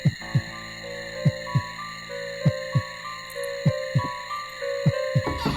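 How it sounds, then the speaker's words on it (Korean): A heartbeat in the horror game The House 1: Francesca thumps as low, steady beats, some falling in close pairs, over sustained eerie droning tones with no voices. "심장 소리가 들리거든요, 지금."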